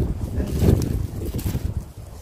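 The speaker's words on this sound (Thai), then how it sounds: "ได้ยินเสียงไหมคะคือลมแรงมาก" Strong cold wind blows outdoors in a chilly, partly snowy woodland, a steady roaring rush that buffets the microphone with uneven gusts, loud and close throughout.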